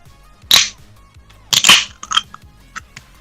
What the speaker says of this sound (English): I've cracked a cold one, which is an apple tango.